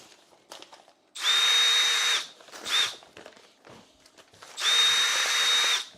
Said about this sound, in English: Is that noisy on there, the drill?